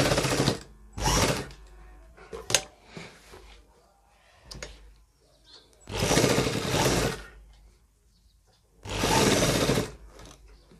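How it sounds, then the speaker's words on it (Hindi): Sewing machine stitching a back pocket onto men's trousers in a tailoring setup. Several loud bursts of rapid mechanical whirring alternate with quiet gaps and scattered clicks. "और इस प्रकार इसको यहां से टांका शुरू करेंगे।"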